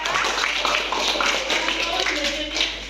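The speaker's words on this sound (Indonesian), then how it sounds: "Tepuk tangan dulu untuk Mbak Wanda sama Mbak Dora" Students in a classroom microteaching session clap for two classmates, a brief, scattered burst of hand claps mixed with chatter and voices nearby.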